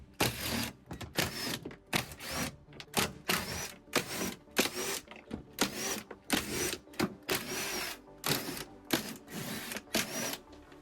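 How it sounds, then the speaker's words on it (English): Gold bolts behind the plastic door panel of a Ford Fiesta Mk6 being undone with a 10mm tool, heard as a quick, steady run of sharp ratcheting bursts, close and fairly loud, with no talk. "you've got to undo all these gold bolts with a 10mm"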